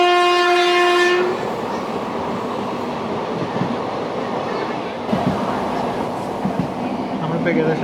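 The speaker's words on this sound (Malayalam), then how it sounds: "നിലമ്പൂർ കോട്ടയം എക്സ്പ്രസ് ആണ് വരുന്നത്." The Nilambur–Kottayam Express approaching in Kerala sounds a loud, harmonic horn blast for about a second, then wheels and carriages rumble and clatter steadily past at close range, with voices in the background.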